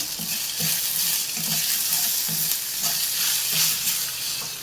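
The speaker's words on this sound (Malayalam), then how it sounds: "കുറച്ച് മഞ്ഞൾപ്പൊടി, ഇളക്കി മിക്സ് ചെയ്യാം." Rice poha stirred with turmeric powder in a hot pan, a rhythmic series of close scraping strokes over a constant soft sizzle.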